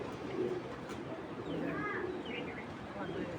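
A racing pigeon coos softly a few times over steady background noise, with people talking nearby.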